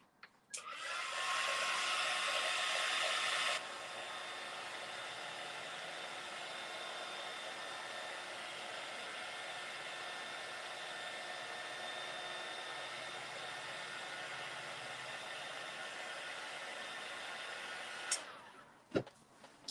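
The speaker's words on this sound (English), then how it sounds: "I'm going to dry that with my little dryer" A small dryer blows on a painted pumpkin, a steady, hissing whoosh for most of the clip, louder at first, then settling lower before clicking off at the end.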